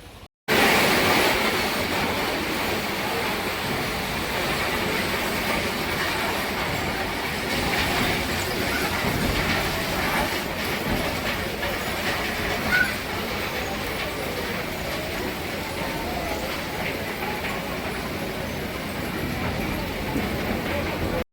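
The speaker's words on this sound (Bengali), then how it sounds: "লোকোমোটিভ একদম সামনের দিকে এগিয়ে গেছে দেখতে পাচ্ছেন" A WDG4 diesel locomotive hauls a stone-laden freight train through a railway station platform, giving a steady, loud rumble of rolling wagons with faint wheel clatter that continues throughout.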